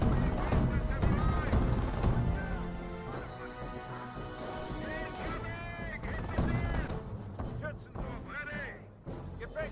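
Company of Heroes battle gunfire on a rifle squad, with rapid machine-gun bursts and scattered shots and thuds in the background while a voice talks over them continuously.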